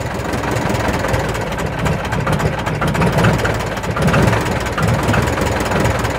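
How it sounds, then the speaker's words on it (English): A 1939 airplane engine idles at low speed with a steady, rough, throbbing rumble, loud and close, with no talk over it. "That baby idle at 675 RPM."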